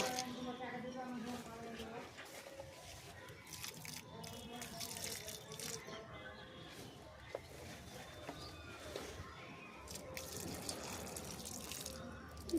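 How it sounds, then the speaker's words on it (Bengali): Water trickles and splashes steadily and faintly as capsicum seedlings are watered little by little, with a continuous low pouring sound throughout. "এখন আমি সেই ক্যাপসিকামের চারাগুলোতে একটু একটু করে জল দেব।"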